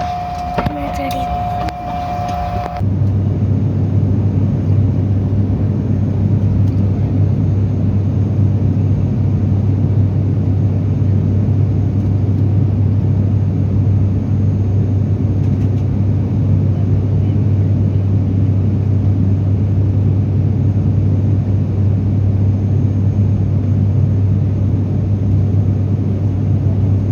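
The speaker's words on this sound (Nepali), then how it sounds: "अब चाहिँ प्लेन टेक अफ हुन बाँकी हो।" Steady, loud engine rumble inside a passenger plane waiting to take off on a domestic flight from Pokhara to Bhairahawa in Nepal, droning continuously after a brief, different opening sound.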